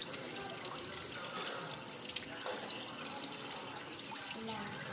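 Water running straight from a tap, a continuous splashing flow with small drips and trickles, steady and close, with faint voices in the background.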